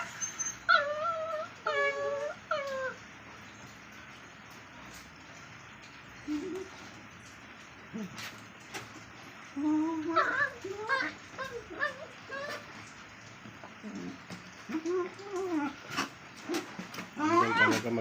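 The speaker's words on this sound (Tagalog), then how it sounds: "Ganyan talaga maglaro ang mga dogs." Two dogs play together indoors, letting out repeated high whimpers, whines and yips in bursts, fairly close and moderately loud, with quiet stretches between.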